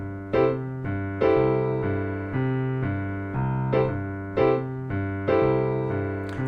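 Piano right hand plays a swing rhythm figure over a walking bass line in the left hand, with evenly spaced chord stabs repeating in a steady pulse, moderately loud and close, with no voices.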